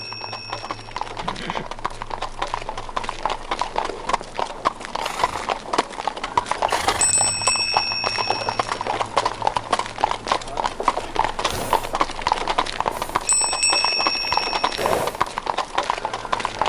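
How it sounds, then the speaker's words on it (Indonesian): Rhythmic clip-clop of hooves trots steadily throughout, joined by bright ringing bells at intervals, like a carriage passing nearby. "ada suara kuda kayak kereta kencana"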